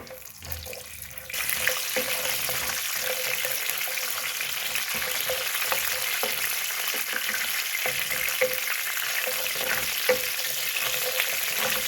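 Urad dal and chana dal fry in hot oil in a pan for a vermicelli upma, a steady close sizzle with fine crackle that starts abruptly after a quiet second and holds evenly to the end.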